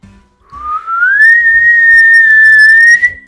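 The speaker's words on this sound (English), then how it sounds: "So she whistled loudly" A single loud, sustained whistle rises in pitch and then holds a steady tone for about two and a half seconds, close and clear, with no talking.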